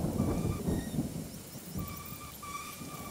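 Rumbling thunder and steady rain from a storm in the video game My Summer Car, a dense low roar swelling and fading over a few seconds with faint high tonal game sounds above, no talking.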